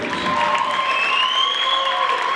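Audience applause welcoming three judges at a Porsche 911 car competition evening, a dense continuous patter of clapping from a gathered crowd, with a sustained tone running underneath.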